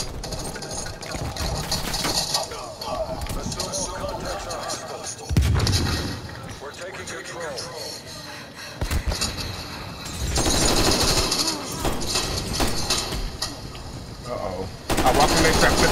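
Gunfire in the game Call of Duty: Black Ops Cold War, loud rapid automatic bursts and heavy blasts that come in waves, with a player's voice talking briefly between them.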